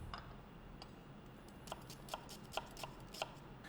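Knife chopping onion on a cutting board in a restaurant kitchen: a handful of sharp, evenly spaced taps, moderately close and fairly quiet over a steady low background hum.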